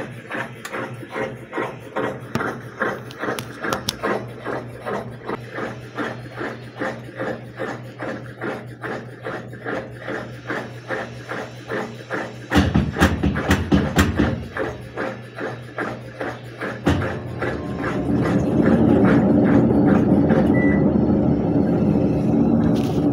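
A digital washing machine drum spins on its spin cycle, first as a steady train of rhythmic thumps, then with a brief louder stretch, and finally as a continuous rushing whir that builds near the end.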